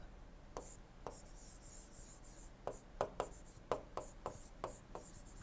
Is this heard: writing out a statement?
yes